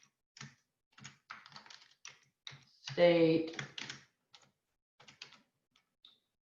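Quick bursts of clicking keys on a computer keyboard, in short uneven runs with pauses, close and clear, interrupted once by a brief spoken word.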